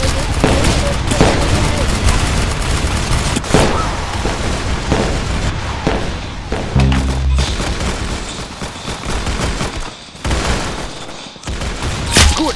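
Rapid bursts of gunfire and heavy booms from a video game's guns fill the clip, loud and dense with repeated volleys, a brief gap near the tenth second, and voices talking over the action.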